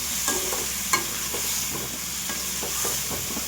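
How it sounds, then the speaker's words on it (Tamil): Eggplant frying in a pan, a close, continuous sizzle broken by several sharp spoon scrapes as the pieces are stirred. "பார்த்தீங்களா, கத்திரிக்காய் போட்டாச்சு."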